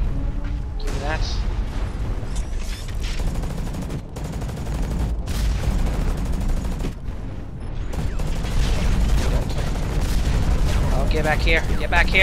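Mech gunfire in the game Hawken, dense rapid bursts and heavy booms rolling continuously while someone talks excitedly over the shooting.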